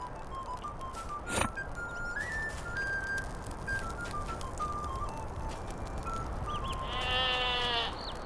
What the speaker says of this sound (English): And there's the prize sheep.